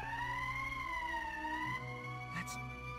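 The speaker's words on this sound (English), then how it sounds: "That's the emergency siren." An emergency siren from the video game Valkyria Chronicles wails steadily, its pitch slowly rising and falling, loud and close, with a brief burst of noise near the end.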